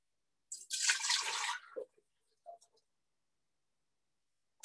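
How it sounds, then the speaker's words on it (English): Water is poured in a ritual libation, a short close splash lasting about a second, followed by a couple of faint drips in otherwise near silence. "We pour the water for them."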